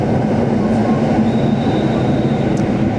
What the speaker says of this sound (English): we've got a nice train going by.